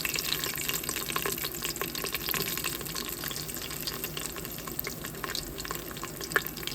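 Cloves, cardamom, cinnamon and garlic fry in hot oil in an Instant Pot, giving a steady, close sizzle with scattered crackles and pops throughout, no voices.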